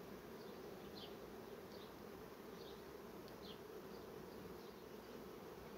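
A honey bee swarm settled in a hive gives off a dense, steady buzzing hum that runs unbroken and loud throughout, with no voices.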